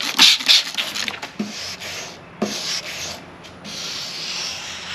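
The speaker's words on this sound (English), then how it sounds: "I'm using sandpaper that has been used a little bit, so this is not super sharp" Outboard motor paint is hand-sanded with worn 600-grit sandpaper in short rubbing strokes, a rough, scratchy sound that comes in bursts with brief pauses between passes.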